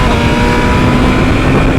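A BMW M1000RR sportbike engine revs hard as it accelerates, a loud, dense, continuous roar held close and steady from start to end with no talking.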